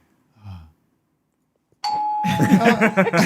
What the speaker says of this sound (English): That ding dong.